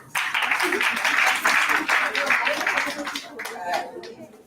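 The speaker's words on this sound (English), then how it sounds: "Let's give a round of applause." An audience at a women's dialogue event bursts into sustained applause, a dense wash of clapping with some chatter and chuckles mixed in, tapering off toward the end.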